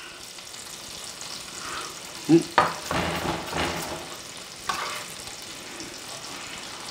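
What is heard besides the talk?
diced onion sizzling in butter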